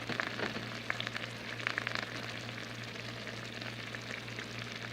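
Onions frying in a pan for chicken cheesesteak pastelillos, a continuous close sizzle like light rain, busier at first with a few crackles, over a low steady hum.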